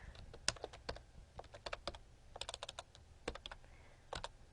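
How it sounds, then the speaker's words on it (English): Keystrokes on a computer keyboard, typed in uneven bursts of sharp clicks with short pauses, close and moderately loud over a faint background hum. "typing kind of is ragged today."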